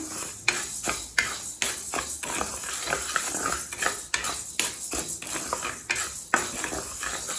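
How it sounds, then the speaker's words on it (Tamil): Urad dal roasting in a pan for thenkuzhal murukku, with a spoon repeatedly scraping and clinking against the metal in a steady rhythm of sharp strikes over a faint background hiss. "இப்போ உளுந்தை நல்லா வாசனை வர வரைக்கும் வறுத்துக்கலாம்."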